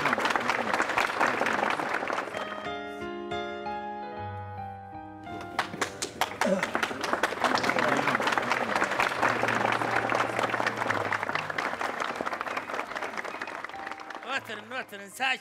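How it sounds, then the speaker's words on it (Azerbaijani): A crowd at an outdoor concert in Xaçmaz city, 2023, bursts into sustained, loud applause after a tonal musical passage, with clapping and cheering filling the air. "bir isti, bir gözəl alqış göndərək"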